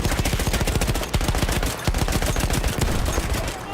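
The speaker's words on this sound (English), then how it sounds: "Trying to take out that stationary machine gun over there" A stationary machine gun in the video game Battlefield 1 fires a long, rapid, loud stream of shots with hardly a pause.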